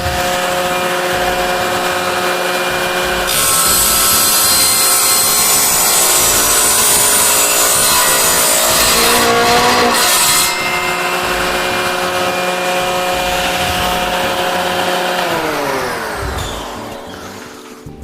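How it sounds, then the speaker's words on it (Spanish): A Lombarte Combi 200 SC combination woodworking machine, set up as a mitre saw for large workpieces, whines as it runs and saws through wood with a loud sustained cut. The motor then winds down. "Una ingletadora para piezas de gran tamaño."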